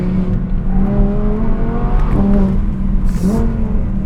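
An Audi R8 V10 Plus with a center exit exhaust pulls hard out of a hairpin, its engine note rising in pitch as it accelerates, loud and close from inside the car with a brief whoosh near the end.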